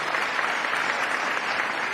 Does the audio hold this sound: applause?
yes